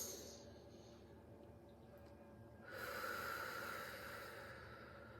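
Deep, controlled breaths drawn in and let out through the nose with the tongue resting at the roof of the mouth, a soft steady hiss that swells louder partway through, close and quiet with no talking.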